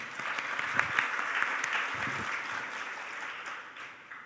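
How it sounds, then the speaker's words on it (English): Conference audience at an ICAO legal session applauding to welcome a speaker, a sustained even round of clapping from a sizable room, moderately distant and continuous, fading slightly at the end. "join me welcoming our speaker with a big round of applause"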